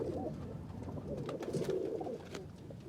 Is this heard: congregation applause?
no